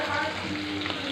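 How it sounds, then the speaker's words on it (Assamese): Broiler chicken frying in oil for pulao gives off a loud, continuous sizzle and bubbling crackle, close up and steady, with no talk. "পোলাও বনাবলৈ কাৰণে এয়া ব্ৰইলাৰ ভাজি থকা হৈছে বৌয়ে ভাজি আছে"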